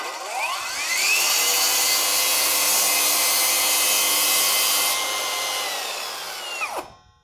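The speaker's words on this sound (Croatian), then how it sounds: "Hajde da probamo malo sa šinom ovu ivericu da isečemo" Parkside PPHKSA 40-Li A1 cordless 40V circular saw cutting chipboard along a guide rail: the blade spins up with a rising whine, holds a loud, steady cutting roar for several seconds, then winds down and stops.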